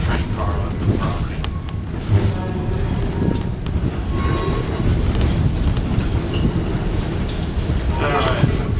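A Central of Georgia train car rolling along the rails in Savannah, Georgia, with a steady rumbling clatter and occasional squeaks and knocks heard from onboard, continuous throughout with faint voices mixed in.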